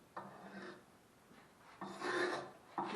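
A knife blade scrapes the old finish off the wooden handle of a Cold Steel Trail Boss axe, sounding as a few separate rasping strokes, close and fairly quiet, with pauses between them and no speech.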